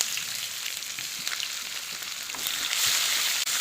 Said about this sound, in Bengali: এরপর আমি পেঁয়াজটা দিয়ে একটু আর একটু ভাজবো